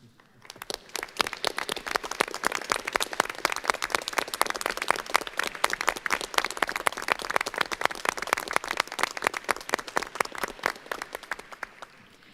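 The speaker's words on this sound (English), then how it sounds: "please stand for a round of applause" Steady audience applause at an evening school board meeting honoring former board members, dense continuous clapping from a crowd that swells quickly and holds for about twelve seconds before tapering.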